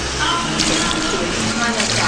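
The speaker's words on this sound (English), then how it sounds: "As you notice, it's a normal shower pressure." Shower water runs at normal pressure during a hair wash at a clinic, a steady, close, broadband hiss of spray that continues without a break for the whole stretch.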